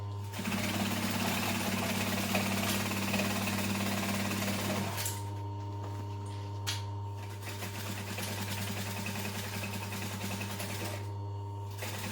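A sewing machine stitches a seam on a tote bag, with a steady mechanical whir and rapid needle chatter running close and loud for about five seconds, then settling into a lower, intermittent hum.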